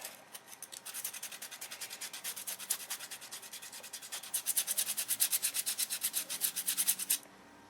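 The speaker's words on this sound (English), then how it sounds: "And then I just take 80 grit sandpaper and sand it off." Sandpaper of 80 grit rubbed back and forth over dried CA glue on balsa wing sheeting, giving a steady run of quick rhythmic scrubbing strokes that are close and grow stronger, then stop abruptly near the end.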